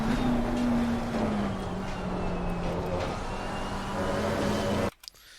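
A McLaren 720S EVO laps Imola in the racing game Assetto Corsa Competizione, its engine a sustained whine that shifts in pitch through the lap before cutting off abruptly near the end.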